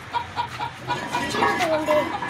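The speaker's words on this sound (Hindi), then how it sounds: "ये देसी मुर्गी हैं" Desi hens cluck softly and repeatedly close by, with a longer wavering call midway, over a steady backdrop of murmuring voices and room noise.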